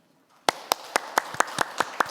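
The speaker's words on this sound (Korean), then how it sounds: "토론자님께 큰 박수 한번 보내주십시오." About eight sparse, evenly spaced handclaps ring out in a conference hall after near silence, sharp and distinct, not a full crowd applause.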